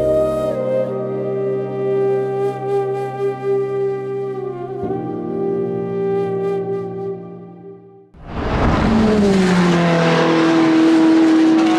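A car engine revs loudly and close, first as a steady droning hum, then dipping briefly before surging into a harsh, roaring rev that holds to the end.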